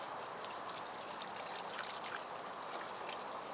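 Eco-friendly bleach poured over pine cones, a faint continuous trickling and fizzing wash of liquid with no talking.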